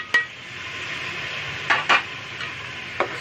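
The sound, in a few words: garlic and ginger being stirred and fried in a pot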